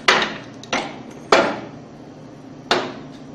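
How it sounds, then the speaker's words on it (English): Four sharp knocks, spaced unevenly, as a pump seal assembly is pressed into a Hypro centrifugal pump housing using a one-inch piece of pipe; each hit is close and fairly loud with a short ringing decay. "Use your 1-inch piece of pipe. And press the assembly in until you feel it bottom out."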